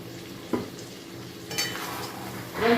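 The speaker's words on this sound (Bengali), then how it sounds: "এবার ভালো করে মশলাটা কষাবো।" Potatoes and a rui fish head sauté with spices, salt and turmeric in a pan for muri ghonto. A soft steady sizzle runs throughout, with a few louder spoon scrapes and stirs near the start, middle and end.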